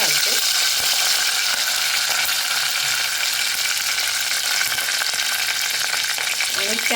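Curry leaves crackle and sizzle steadily in hot oil while cabbage bhaji is being made, a dense continuous frying hiss with faint stirring, close and unbroken, no talking.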